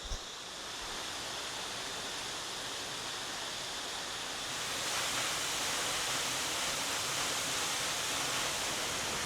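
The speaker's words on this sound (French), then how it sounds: "Je la vois déjà. La cascade." A waterfall in Cambodia pours as a steady, broad rushing roar that swells a little louder midway, with no voices over it.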